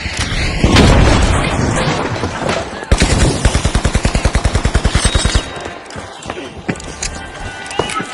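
Thermite blasts and gunfire rip through an arcade-style arena battle in the video game The Finals: heavy booms, then a long rapid burst of automatic fire, followed by scattered shots and impacts.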